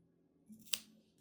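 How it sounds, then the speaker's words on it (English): Scissors snip through crochet yarn for a baby blanket in one quiet, crisp cut, close and alone against a faint background hum. "Cut my yarn."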